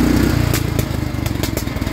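A Simplicity riding mower's small engine runs roughly close by, its steady chugging broken by uneven pulsing and intermittent sharp pops through the full two seconds, with no talk.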